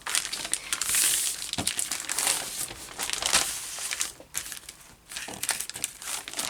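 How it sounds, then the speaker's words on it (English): A Heat n Bond Lite fusible sheet being cut to size: close, papery crinkling and crackling with short bursts and brief pauses as the backed sheet is handled and snipped. "I'm just going to measure it out and cut it down to size"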